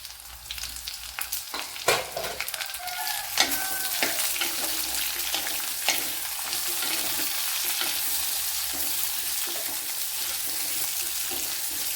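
Chopped large onion dropped into a hot pan for a tapioca dish, sizzling and frying steadily with a few sharp clatters and stirring scrapes early on, the hiss holding loud and constant throughout.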